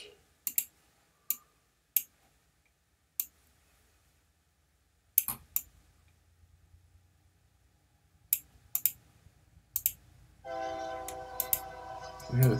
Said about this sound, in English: We hear the train in the background.